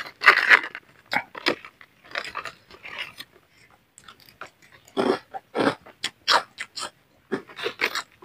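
Natus potato chips crunch between the teeth in a series of close, crisp bites and chewing bursts, separated by short quiet gaps, with no talking.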